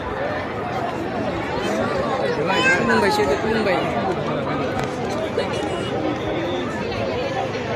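Dense crowd chatter fills a packed, jostling venue at the 57th ABSU conference in Dotoma, Kokrajhar: steady overlapping voices and babble without pause, close and loud throughout.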